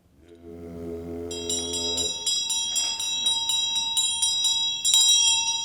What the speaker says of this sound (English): The sound of the bell is offering.